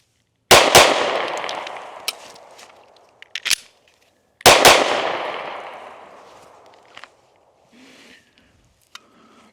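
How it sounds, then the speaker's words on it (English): Pistol gunshots at an outdoor range, two sharp, loud close shots ringing out with long decays, followed by quieter metallic clicks and handling noises as the gun is reloaded. "I'm gonna shoot until I'm out, and then I'm gonna reload the pistol and fire 2 more rounds"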